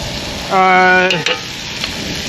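Omelet ingredients with tomatoes are stirred in a hot pan outdoors, a constant sizzle broken by a brief tonal squeal and a couple of sharp scraping knocks.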